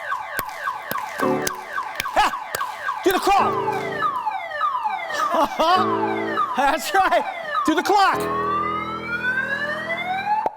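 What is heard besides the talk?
common car alarm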